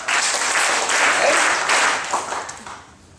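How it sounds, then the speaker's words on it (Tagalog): A church congregation claps together, a dense burst of many hands that swells and then fades out over a few seconds. "Okay, 5 palakpak po kay Lord."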